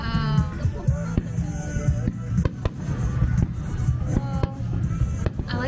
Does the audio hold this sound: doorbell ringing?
no